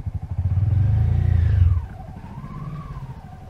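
Three-wheeler engine running while reversing: a loud, close, low rumbling putter that holds steady, then drops to a quieter idle with a wavering tone as it moves back.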